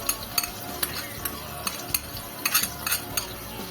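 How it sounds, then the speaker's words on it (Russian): Chopped onions sizzle in a hot pan while a utensil stirs and scrapes, with frequent clicks against the metal. "И начинаем жарить."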